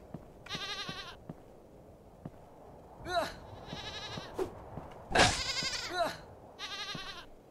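Goat bleats from the video game Lillusion, several short wavering cries spaced apart over soft background noise, with someone talking faintly in between.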